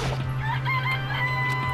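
Chickens cluck and a rooster crows in the Danganronpa: Trigger Happy Havoc video game, loud and continuous over a steady low hum, with no talk.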